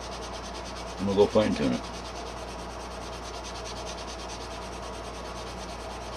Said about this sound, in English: Pay particular attention to how uniform, how flat you have your sanding block.